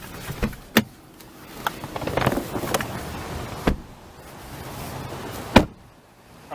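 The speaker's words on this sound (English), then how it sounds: "So let me jump out, turn the car off." A car is switched off and its occupant climbs out, with several sharp clicks and thumps of door handles and the door amid quiet cabin rustling and a whirring power window, close up and without speech.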